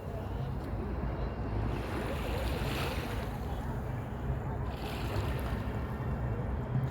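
Sea waves washing ashore at an Alexandria beach on a sunny day, a continuous low rushing surf with wind buffeting the microphone, steady and fairly near.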